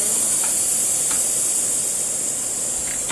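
Airbrush spraying Mr. Color 322 phthalo blue model paint onto an HG model kit, a steady close hiss of air holding level the whole time with no voices.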